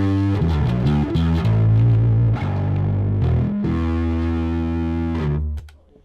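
Bass guitar played through an MXR distortion pedal, a growling, fuzzy run of notes and sustained tones, loud and close, ending with a quick fade.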